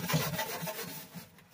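Brush bristles scrub inside a dirty oven with quick, close rubbing strokes, a soft scratchy rasp repeating a few times before fading.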